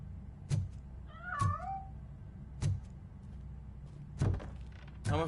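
A cat meows in the video game Robocop Rogue City, a short rising-and-falling cry set among sharp intermittent thuds and knocks, with quiet background ambience.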